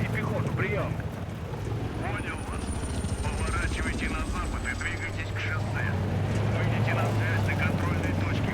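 Helicopter rotors thump steadily in the video game Battlefield 3, with a low engine rumble and faint whooshing over a constant drone, and distant voices murmur beneath.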